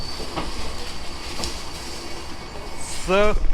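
Chilahati Express train pulling into platform one at Nilphamari Sadar railway station on a foggy, bitterly cold day, a steady rumble of rolling cars with a rising squeal near the end as it slows.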